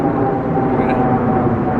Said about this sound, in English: Planes going overhead.